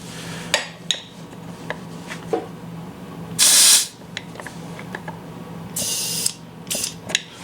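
Compressed air hisses in two loud bursts into a Bounder motorhome tire during a wheel and chain repair, with scattered metallic clicks and clanks of bolts and tools around them, close and without talk.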